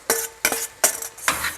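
Vegetables and beef strips drop back into a stir-fry skillet in four separate sharp thuds and clatters, evenly spaced and close up.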